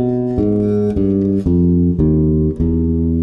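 An electric bass plays a bebop lick: five clean plucked notes in a steady, even rhythm, each ringing full and close until the next, with no voices.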